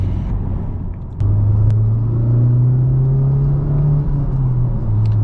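A 2019 Honda Civic Type R launches hard, its engine rumbling low and then climbing steadily in pitch as it accelerates, loud and close with no talk over it.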